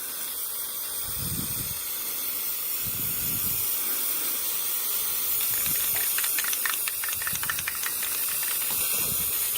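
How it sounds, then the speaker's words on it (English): An aerosol can spray-paints a foam ball in steady hissing bursts, several separate sprays with short pauses between them, close and moderately loud, with no voices. "you want to go ahead and just spray paint all sides of it"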